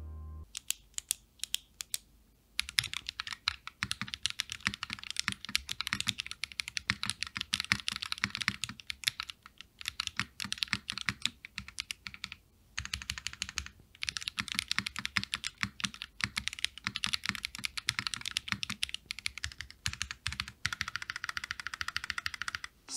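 Continuous typing on a Thermal 60% keyboard by RAMAWORKS fitted with GMK keycaps, a steady close-up stream of crisp keystrokes with brief pauses, heard alone without talk.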